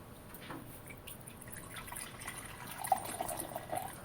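Liquid trickles and drips softly as a drink is poured out for ancestors, faint and close, with small splashes growing slightly louder toward the end.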